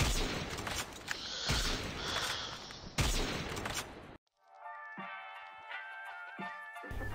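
Rapid bursts of BK rifle fire in the Call of Duty Mobile shooter game, loud and dense for about four seconds, then a sudden cut to quieter game sounds with a few scattered sharp shots.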